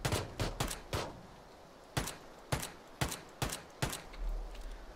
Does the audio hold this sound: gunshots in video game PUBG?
yes